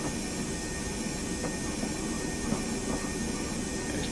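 A Class 101 diesel multiple unit in Train Simulator Classic rumbles steadily over points, with faint wheel clicks and joint knocks spaced through a continuous low rolling drone inside the cab.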